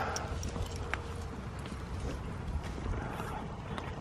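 Horses at breakfast feeding time, with hooves clip-clopping and shifting in a steady run of low thumps and clatter over constant background noise for about four seconds. No one speaks.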